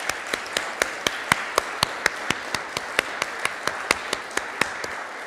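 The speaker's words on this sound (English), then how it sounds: "Please give them a round of applause." Slow, evenly spaced claps ring out one at a time, sharp and close, in a lecture hall, roughly three per second against a faint background of other clapping.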